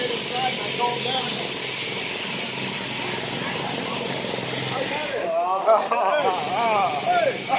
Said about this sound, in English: it was just shooting out of steam